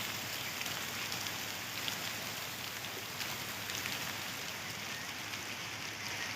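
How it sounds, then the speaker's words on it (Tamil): Rain mixed with hail falls in a steady, soft, even hiss that sounds fairly distant and continues unbroken, with no voices. "ஆலங்கட்டி மேலே அடிக்குது பாரு மழையே வர எடுத்துட்டோம்"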